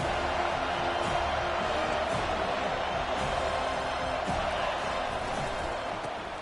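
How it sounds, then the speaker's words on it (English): A large home crowd fills a college football stadium with a loud, continuous roar and cheering, dense and steady throughout with occasional sharper shouts rising out of the noise. "This crowd trying to show them what it's going to be like all day in this house."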